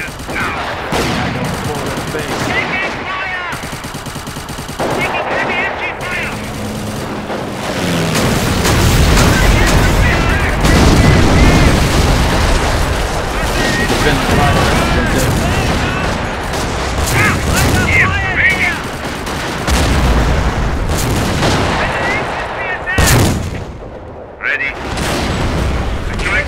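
Battle sounds from the Company of Heroes strategy game, with a Far East war mod: dense gunfire, machine-gun bursts and booming artillery blasts overlapping in a loud, continuous barrage, with brief game voice lines mixed in.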